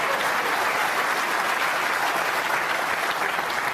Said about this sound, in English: The extra round of applause because look where he put the cue ball.